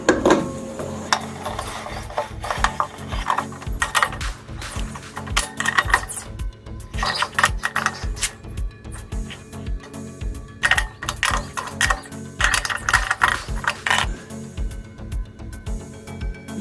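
Wheel bolts are tightened while changing a punctured tyre, giving a continuous run of close metallic ratcheting clicks and clinks in an irregular rhythm, alone without talk.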